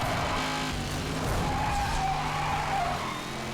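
A car skidding on its handbrake in Need for Speed Hot Pursuit, a steady tire squeal riding over the loud, constant roar of a racing engine, close and with no one talking.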